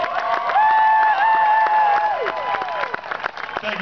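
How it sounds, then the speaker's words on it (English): Crowd applause and cheering for San Francisco Giants players at a season ticket holder appreciation party, steady clapping under loud whoops and whistles that gradually thin out toward the end. "How about a nice round of applause for Ryan Vogelsong, Bruce Bochy, Hunter Pence, Ryan Terrio, Buster Posey,"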